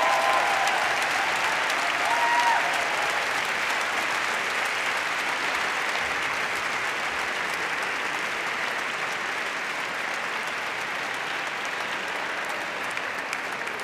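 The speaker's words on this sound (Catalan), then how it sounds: "un flor aplaudiment per tots vosaltres." Graduation ceremony audience applauding steadily, a broad even wash of clapping lasting many seconds at moderate level, slowly tapering toward the end.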